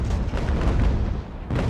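Ship cannons fire broadside in the naval game Ultimate Admiral: Age of Sail, a loud, rolling stretch of overlapping booms with no gap between them and a fresh blast near the end.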